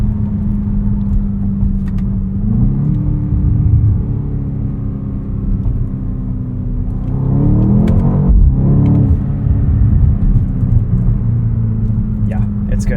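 A 2024 BMW X5 M in Sport Plus mode hums with a steady low engine drone from inside the cabin, its pitch climbing and settling as it drives on, with a brief surge near the end.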